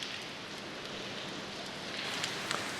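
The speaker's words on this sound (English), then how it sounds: "so of course it started raining" Rain on an English summer night falls steadily outdoors, an even, soft hiss of drops with a few faint patters near the end, no one speaking.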